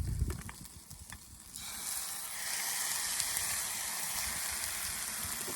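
Homemade tomato sauce of chopped tomatoes, onion and garlic hits a hot pan outdoors, bursting into a loud, steady sizzle after a few soft clinks, continuing close and unbroken.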